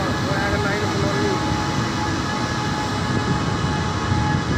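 A WAG 9 electric locomotive from the Benoni shed pulls away from platform 4 at GHG railway station, giving a loud, steady rumbling drone mixed with broadband wheel and motor noise throughout.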